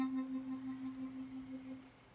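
A single sustained FM synthesizer note with AM modulation from an LFO, a quiet steady tone pulsing in volume at a regular rhythm before fading.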